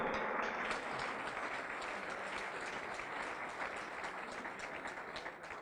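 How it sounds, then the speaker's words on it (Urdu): Loud, sustained applause from a church congregation fills the space with dense, even clapping that stays strong throughout before easing slightly toward the end. "زوردار تالیاں بجائیں یسوع کے نام کو جلال دینے کے لیے"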